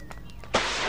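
A bazooka rocket explodes outside a police station in a video game, a few light pops giving way to a sudden loud blast whose broad roar sustains to the end.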